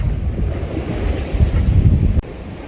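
Wind and sea swell at a rocky shore in Yeosu during spring squid fishing, a steady broad roar of gusts and surf with low rumbling wind buffeting the microphone, continuous throughout and cut off abruptly near the end.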